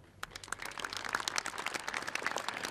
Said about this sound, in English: thank you for your applause for her